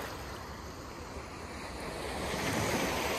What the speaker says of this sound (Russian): Это дикий просто пляж.